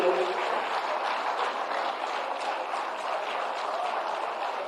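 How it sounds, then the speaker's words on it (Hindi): A large audience claps at an official government ceremony where appointment letters are handed to newly hired teachers, a dense, steady wash of applause that holds at an even loudness throughout. "जोरदार ताली होनी चाहिए"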